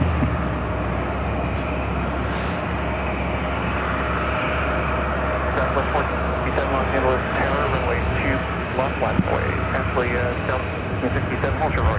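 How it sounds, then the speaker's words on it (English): A Southwest Airlines Boeing 737-700 jet at LAX rumbles with a steady broadband engine roar throughout, held at a constant level, while someone talks over it. "Southwest flight heading to Vegas."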